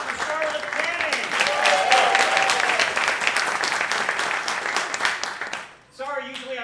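A vaudeville theater crowd applauds in a dense, sustained wash of clapping for several seconds, cutting off abruptly before a speaking voice resumes alone.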